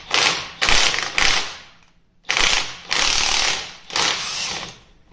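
A ratchet socket wrench with a 6-point socket works on a rounded-off bolt during removal of the hydraulic lift cover on a 175 tractor, sounding as loud, close bursts of rapid ratcheting clicks separated by short pauses.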